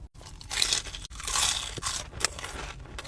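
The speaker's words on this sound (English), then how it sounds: "Crunch is superb." Crunchy Nashville hot chicken with a thick crust being bitten and chewed up close, a run of loud crisp crunches and crackles with short pauses between bites.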